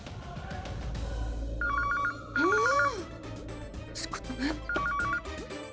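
A telephone rings in short repeated electronic bursts, with a voice speaking and other sounds between the rings at moderate volume.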